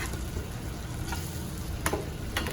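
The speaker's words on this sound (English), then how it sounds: "We're going to saute them over medium-high heat" Gnocchi sautéing in a pan over medium-high heat, a soft continuous sizzle with a couple of brief clicks of the pan or utensil near the end.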